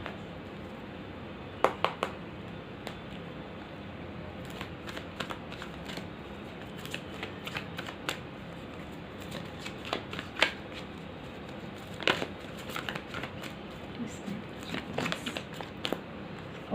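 Tarot cards shuffled and drawn during a reading, with soft quick riffling bursts and crisp flicks of cards scattered across a quiet room, close and fairly faint.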